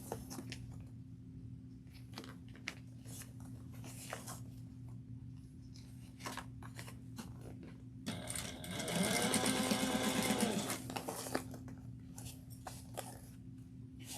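A sewing machine back stitching a seam on a crossbody bag, a brief burst of rapid, rhythmic needle chatter lasting about three seconds, close and moderately loud, set against quiet handling noises before and after.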